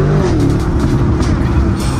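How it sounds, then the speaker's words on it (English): A Lamborghini Urus S engine accelerating: a loud, steady low engine roar with rising harmonics that holds close and continuous for two seconds, with no talking. "I love accelerating this thing, it sounds so good."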